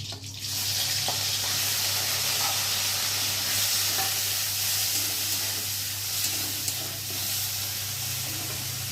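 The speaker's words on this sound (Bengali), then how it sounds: "তেলের মধ্যে এখন চিংড়ি মাছগুলোকে দিয়ে ভালো করে ভেজে নেব" Shrimp fry in hot oil with pointed gourd in a pan, giving a continuous, even sizzle with a low hum beneath and a few faint clicks, close up and quiet.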